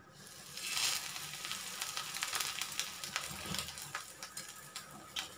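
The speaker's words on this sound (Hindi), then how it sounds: "अब मैं इसे शैलो फ्राई कर लेती हूँ।" Bread slices shallow frying in melted butter on a hot tawa, a continuous crackling sizzle with sharp pops, swelling early then settling into steady spitting.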